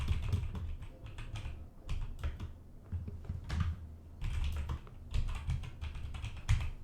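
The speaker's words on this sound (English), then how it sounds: "we can literally just type in Google Arts and Culture into the Google search bar" Fingers rattle steadily across a computer keyboard while a search phrase is entered into a browser, with quick bursts of keystrokes, short pauses between them, and close, clear clicks.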